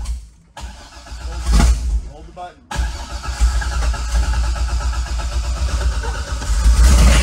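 A totaled Corvette's engine cranks and struggles to start, a loud low rumble running nearly throughout with a short break partway, while a voice speaks over it.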